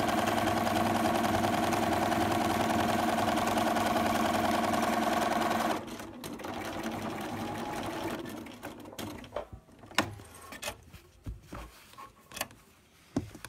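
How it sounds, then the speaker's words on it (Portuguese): A sewing machine runs steadily with a loud, even motor whir while stitching the side seams of a pillowcase border, then stops, followed by scattered handling clicks and taps. "vamos costurar lá as duas laterais do barrado"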